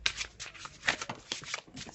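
Tarot cards from a Faulkner deck being shuffled by hand, a close, crisp flurry of riffling and sliding card noises running continuously for about two seconds.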